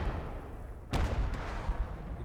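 A single heavy artillery blast booms in the Gates of Hell war game, a sharp broadband crack followed by a rumbling tail, with a fainter second report shortly after over constant battlefield noise.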